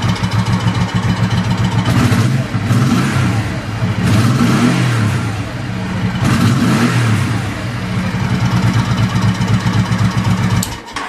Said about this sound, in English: That little funny noise you're hearing is an open breather tube.